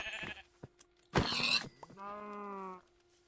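A sheep bleating in the Minecraft video game, one clear drawn-out bleat after a short burst of clicks and game sounds, close and fairly quiet.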